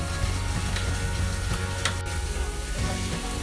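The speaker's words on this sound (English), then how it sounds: "You can see it's boiling little by little" Steady bubbling and sizzling from a pot of potatoes boiling in water on the stove, with a constant low rumble and occasional soft clicks.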